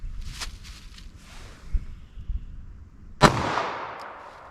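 Shots from a .380 ACP pocket pistol fired into ballistic gel outdoors, with softer pops early on followed by one sharp, loud report whose echo trails off afterward.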